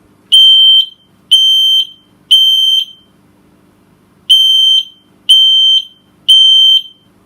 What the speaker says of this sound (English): So the minute that smoke alarm goes off, we will hear it and we will wake up.